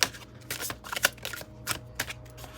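Cards being shuffled for a twelve-card pick-a-card reading, a run of crisp riffling bursts and soft flicks at close range with no voices.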